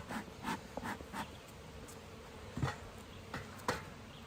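Honeybees buzzing around an opened backyard beehive outdoors, a faint steady drone with a few louder passes as individual bees fly close by, no talking.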